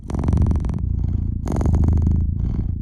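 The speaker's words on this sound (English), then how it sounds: "I played the purring cat." A domestic cat purrs loudly and close, a steady rumbling vibration broken into two long swells with a softer pause between them, with no other sounds.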